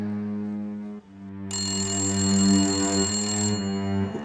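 A mobile phone rings close by with a steady, sustained electronic ringtone of layered bright tones, a sharper high-pitched layer joining midway before it fades back.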